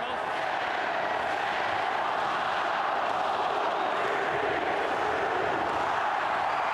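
A stadium crowd roars continuously at full time of a 2003 New Zealand versus Australia rugby league test match in Auckland, a dense, unbroken wash of cheering from thousands of fans, with commentary under it.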